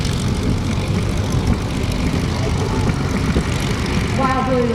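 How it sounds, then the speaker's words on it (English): An RV-8 aerobatic airplane with a fuel-injected engine, built in 2006, drones loudly and steadily at an air show while a person talks over it. "the RV-8 from Band Aircraft is what Jive calls every man's airplane"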